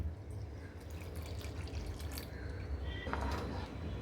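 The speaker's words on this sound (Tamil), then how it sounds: "பால் சேர்த்துக்கிறேங்க." Milk is poured into a pot for paal kolukattai, a continuous soft liquid stream and splash, close and moderately quiet, swelling slightly toward the end.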